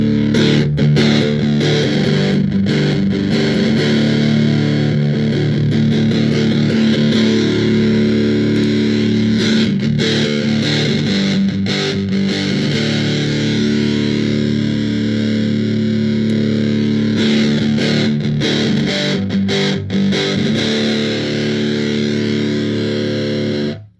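A heavily distorted electric guitar through a Pi-Rat of Doom distortion pedal with germanium clipping diodes plays continuously, thick and fuzzy with a warm, compressed crunch, loud and sustained before cutting off at the end.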